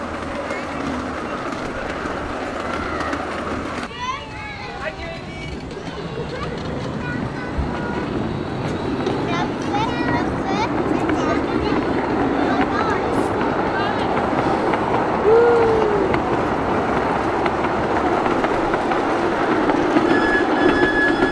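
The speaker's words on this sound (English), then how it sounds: "There's a bigger train over there." A train rolls along rails through a Swiss riverside mountain area, a steady continuous rumble with faint squeals, building slightly louder as it passes, with a person talking over it.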